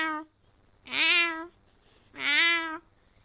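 A voice imitates a cat meowing: two drawn-out, rising-then-falling meows, close and fairly loud, separated by a short pause with no other sound.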